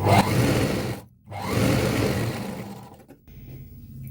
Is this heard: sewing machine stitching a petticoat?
yes